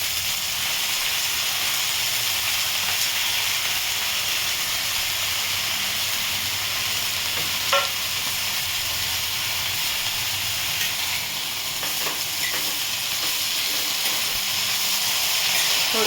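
Dill greens are stir-fried over a high flame for a Marathi shepu bhaji, making a long, even hiss of steam and sizzle with a few faint clicks of a spatula partway through. No one speaks.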